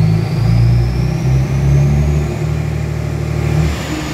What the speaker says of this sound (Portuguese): Aí o motorista quer acelerar o caminhão.